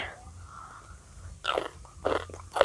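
Crisp, crunchy bites and chews into salted pickled baby mango, three distinct close bursts at steady intervals over a quiet background.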